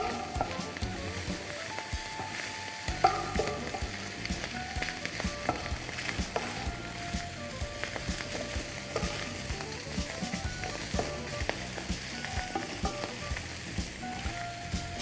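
Chicken strips and shiitake mushrooms stir-fry in a hot wok, a constant crackling sizzle with rhythmic scraping and tossing from the spatula, steady and close with faint background music tones and no speech.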